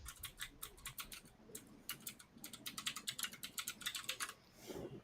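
Computer keyboard typing in irregular bursts of quick clicks and clacks, close and fairly clear, with short pauses between runs and no talking.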